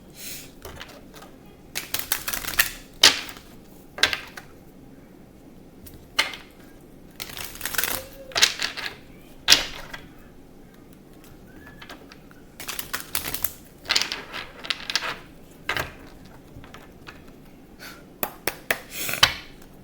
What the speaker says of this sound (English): All right, let me shuffle.